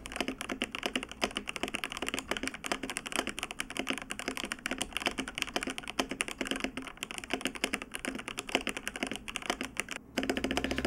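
Steady, rapid clatter of a stock mechanical keyboard with TTC switches and PBT keycaps, close-up continuous typing with dense, even keystrokes and a brief pause near the end, no voices.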